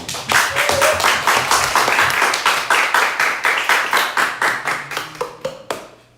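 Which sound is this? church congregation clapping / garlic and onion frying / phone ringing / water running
church congregation clapping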